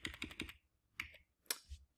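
Arrow keys on a computer keyboard are tapped with a quick run of four soft clicks followed by two separate single presses. The keys sound close and quiet.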